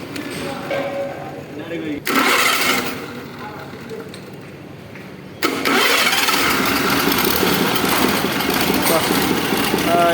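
An Ashok Leyland 16.13 truck engine cranks and catches with a loud roar, surges briefly, then settles into a steady, close, heavy running rumble.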